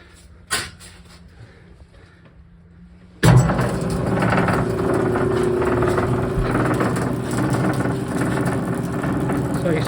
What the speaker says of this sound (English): So you see the little engine's running the pulley,